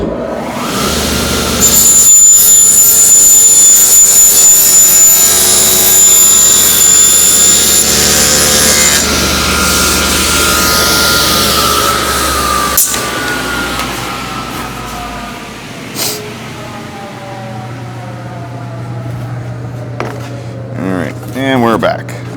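A loud power saw drones steadily while trimming wooden parts for rabbeted drawer boxes, whining for several seconds before spinning down, followed by quieter shop noise and some talk.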